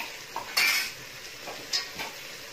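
Jackfruit pieces stirred with roasted sesame powder in a pan, a spoon scraping and clinking against the metal a few times in short separate strokes, close and fairly clear with no talk.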